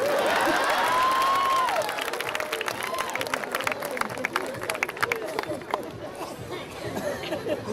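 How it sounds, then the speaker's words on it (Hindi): Audience at a Hindi comedy poetry show (hasya kavi sammelan) breaks into steady applause and cheering, a dense crowd clatter that fades over several seconds with a voice briefly over it. "ताली बजाओ भाई साहब, आप ही के लिए बोला हूँ।"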